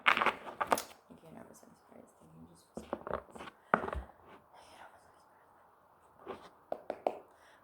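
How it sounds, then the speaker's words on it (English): Cards being shuffled for a pick-a-card reading in quick riffling bursts and soft clicks, close by, with faint whispering between the shuffles. "So sorry about the extensive shuffling"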